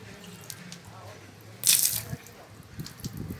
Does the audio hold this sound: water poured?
yes